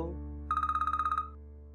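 A short burst of electronic telephone trilling, about a dozen rapid pulses, ringing over a low, steady musical background.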